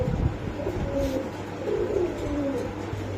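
Pigeons coo repeatedly in a breeding loft, soft rolling calls at close range over a low steady hum, with fancy breeds such as Budapest and Damascene kept there.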